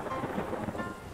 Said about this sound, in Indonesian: Wow, petir-petir banyak banget ya.